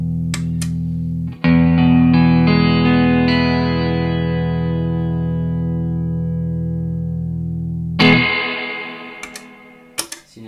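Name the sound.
guitar through SurfyBear reverb unit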